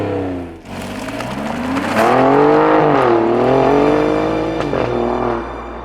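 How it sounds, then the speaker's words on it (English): Alfa Romeo Giulia Quadrifoglio 2017 engine through its quad exhausts, a loud, close rev that climbs and falls in pitch as the throttle is worked, then settles into a lower drone. "4 exhausts, which give out the best soundtrack of any car this side of a Ferrari"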